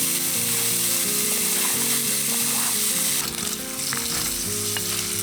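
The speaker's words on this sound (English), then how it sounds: "next we cook the bacon over medium heat" Bacon frying in a pan over medium heat, a dense, steady sizzle with crackling spatters that carries through the whole stretch, with low background hum beneath.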